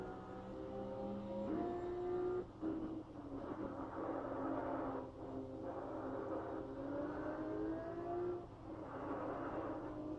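A race car engine in the racing game GTR 2 revs and drones at moderate distance, its pitch climbing through gears and dropping in short breaks between shifts, steady and fairly quiet with no speech.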